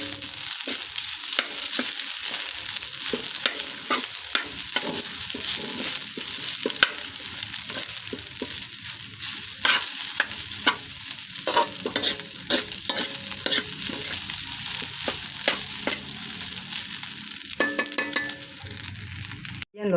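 Fried rice being stir-fried in a pan, with a constant close sizzle under rapid, repeated scraping and clinking strokes of the spatula that continue throughout.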